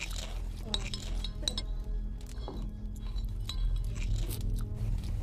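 A knife cuts through a crisp cheese tuile crust on a plate in a professional cooking competition kitchen, giving repeated small crunches and clinks of cutlery and dishes, with people talking nearby.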